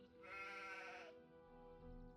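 One close, wavering bleat from a sheep in the Gothic II video game lasts roughly a second, followed by faint ambient game sound and no speech.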